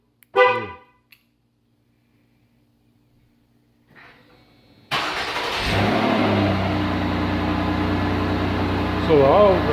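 Car engine cranking and catching after a remote starter trigger, then idling steadily and fairly loud after a quiet pause, following a brief spoken count at the start.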